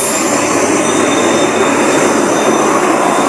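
The Sangkuriang train rolls past on a bridge, close and loud, a steady roar with hissing wheel squeal and metallic rail noise holding at full strength throughout, with no talk over it.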